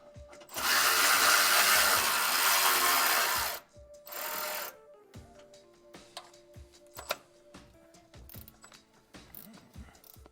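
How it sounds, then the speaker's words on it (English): Milwaukee high speed ratchet whirring on a motor mount bolt of a 2010-2019 Ford Explorer, a loud three-second buzz and a shorter second burst, then scattered clicks and clanks of tools. "I'm going to come in with the best ratchet ever, Milwaukee High Speed."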